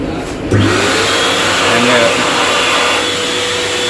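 A hand dryer in the toilet of a Vande Bharat Express train switches on after a brief pause and blows with a loud, steady close-up roar that holds to the end.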